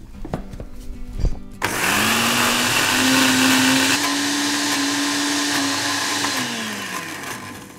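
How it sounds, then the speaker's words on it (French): A kitchen blender whirs loudly as it purées dip ingredients seasoned with salt. A brief clatter comes first, then a sustained motor whine holds for several seconds before its pitch sinks slightly as it winds down. "Et après, On mixe."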